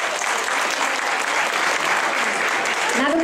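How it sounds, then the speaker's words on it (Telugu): An audience claps dense, steady applause to welcome children at an Ugadi celebration program, sustained and fairly close throughout, with a voice faintly rising over it at the very end. "ఒక్కసారి మీ చప్పట్లతో వాళ్ళకి వెల్కమ్"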